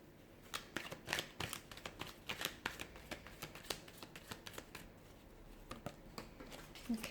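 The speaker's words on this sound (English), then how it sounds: "So we'll give the cards a shuffle" Tarot cards being shuffled by hand, a close, quiet run of crisp riffling flicks and soft taps in uneven bursts, with no talking over them.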